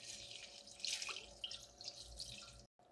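Broth pours and splashes steadily over stew meat in a pressure cooker pot for a few seconds, a close, hissy running-water sound, then cuts off briefly near the end.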